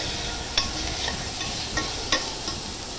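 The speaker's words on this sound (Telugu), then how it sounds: "2 టమాటోస్ ముక్కల్ని వేసుకోవాలి, మళ్ళీ ఫ్రై చేసుకోవాలి" Tomato pieces with turmeric fry in a pan, giving a steady hiss punctuated by a few sharp spatula taps and scrapes, close and moderately loud.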